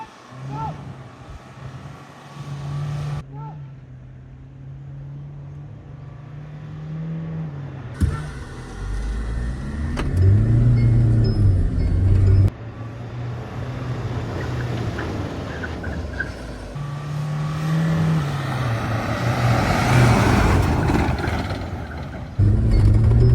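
Two Mahindra SUVs, a Scorpio N 4xplore and a Scorpio Classic S10 4WD, drag race. Their engines drone and swell under acceleration, loud and sustained, rising toward the end.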